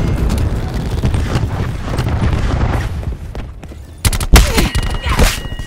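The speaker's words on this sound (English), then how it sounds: "Cluster grenade going out." Cluster grenade blasts in the shooter game Call of Duty: Black Ops 4, a loud churn of rumbling booms and crackling gunfire, capped by a cluster of sharp, close explosions in the final seconds.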